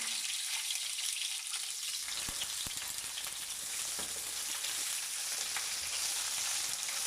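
Vegetables sizzle in a pan of hot olive oil, a dense steady frying hiss with a few faint clicks near the start, close and unbroken, with no talking.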